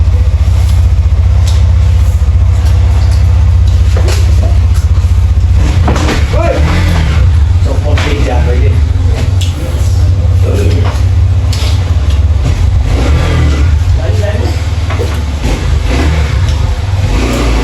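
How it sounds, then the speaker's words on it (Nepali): Two motorbikes brought outside rumble loudly close by, engines idling and revving in surges throughout, with people talking over the noise. "अब दुईटी बाइक बाहिर आऊ"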